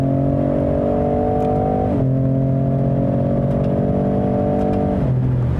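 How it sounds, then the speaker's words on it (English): A 2019 Ford F-150 Raptor pickup with a V6 engine accelerating hard, its loud, close engine note climbing steadily and dropping briefly at two gear shifts. "This is one fast-ass truck. Love the speed. The noise is interesting."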